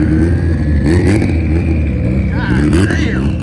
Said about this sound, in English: Ford Focus making all types of noise.